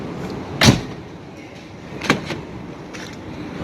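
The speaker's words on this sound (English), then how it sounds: "this is the new door handle here" A new smart key door handle for a 2005 Nissan Murano is handled, giving two sharp plastic-and-metal clacks about a second and a half apart, then a lighter click, up close with no talking.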